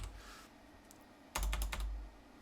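Computer keyboard typing, a quick burst of several close keystrokes over a steady low background hum, with a faint click earlier.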